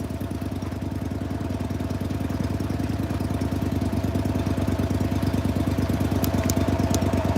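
A boat's outboard engine idling nearby, a loud, steady low chugging rumble with fast regular pulsing that holds constant throughout, with a few faint ticks near the end.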